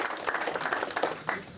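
Brief, fairly faint applause from an audience at an Eid reception at Labour Party headquarters in London, a scattered patter of clapping with a few sharper claps standing out.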